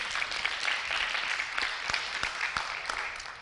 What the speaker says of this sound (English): So I want y'all to clap it up for yourselves